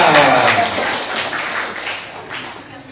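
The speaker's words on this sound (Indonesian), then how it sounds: "Tepuk tangan" Clapping from the audience at a religious study gathering, a loud dense wash of applause that fades gradually over a few seconds.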